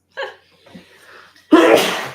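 A single loud, close sneeze bursts out after a short quiet stretch, following a brief faint vocal sound.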